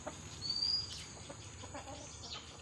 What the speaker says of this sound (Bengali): আর মোরগটা দেখেন কত সুন্দর মোরগ